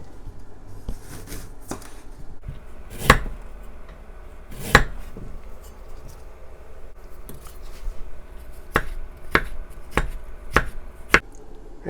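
A kitchen knife chops ginger on a cutting board, its sharp sparse knocks growing into a quicker run of evenly spaced strikes, close and clear against quiet background noise.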